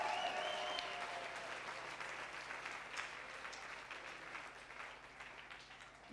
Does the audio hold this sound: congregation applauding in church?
yes